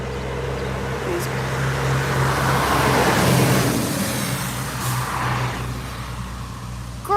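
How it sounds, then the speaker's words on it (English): Large trucks roll down a narrow small-town main street in New Windsor, Maryland, with a loud, close engine rumble and road noise that swells and then fades. "great big trucks coming down this little main street."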